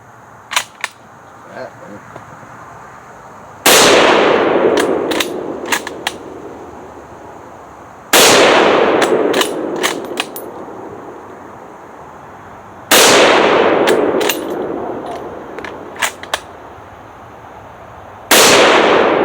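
Shots from an FR-7 rifle ring out at intervals of about five seconds, each a loud sharp crack with a ringing echo, with small clicks and handling noises between them.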